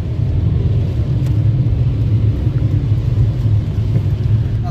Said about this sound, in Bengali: খুব জোরে বৃষ্টি পড়তেছে এখন